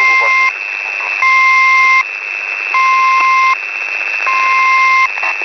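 A T-Marker radio marker signal on the 4182 kHz shortwave band, with steady repeating tone pulses about every 1.5 seconds that alternate with bursts of open-channel noise, loud and clear.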